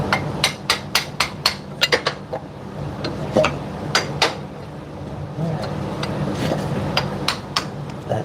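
Hammer taps driving a CV axle into a Toyota Corolla's transmission, a run of sharp metallic strikes in quick bursts followed by scattered heavier blows and low garage noise.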